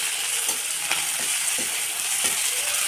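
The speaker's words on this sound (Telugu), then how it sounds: "ఉప్పు అల్లం పేస్ట్ కొద్ది కొత్తిమీర వేసి కలపాలండి" Salt, ginger paste and coriander being stirred into a frying onion mix for bitter gourd fry, a loud, dense sizzle with occasional scraping strokes of a spoon against the pan, close and continuous.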